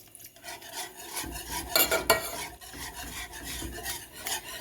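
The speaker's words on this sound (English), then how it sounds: "And just don't stop whisking it" A whisk rasps and scrapes steadily around a pot of beef stroganoff sauce, a close continuous stirring sound with a brief louder flurry of clinks near the middle.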